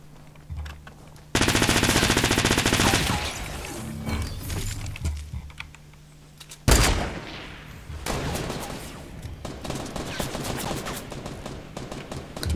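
Rapid bursts of tank gunfire from the TANX video game, loud automatic volleys opening, fading, then a sharp blast followed by steadier crackling shots.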